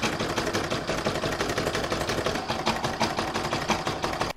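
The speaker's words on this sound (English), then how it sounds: "I'm going to stitch round number 2, which is going to stitch the whole lot down" A sewing machine runs steadily, stitching through layered fabric on a seasonal alphabet coaster, with a fast, even mechanical chatter that is close and loud throughout, and no voices.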